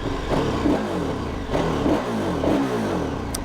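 A 2022 KTM 1290 Super Adventure R motorcycle engine revving up close, in three rising throttle blips over a steady mid-pitched idle rumble, with no talk.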